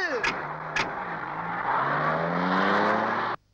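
A car in a Hindi film scene pulls away under a driver's control, its engine rising in pitch as it speeds up. Two sharp knocks come early, and the sound cuts off abruptly at the end.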